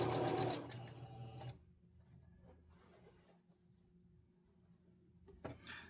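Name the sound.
sewing machine sewing reverse stitch on quilt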